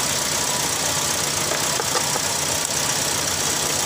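A Toyota Vios with a dual VVT-i engine idles roughly with a misfire after a new spark plug, a loud steady close engine drone with faint uneven knocks and stumbles.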